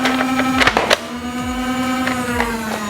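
A Nerf Roblox Pulse Laster blaster revs with a steady motor whine, then fires a dart with a sharp burst near the start and a second shot just after, the flywheel hum continuing up close.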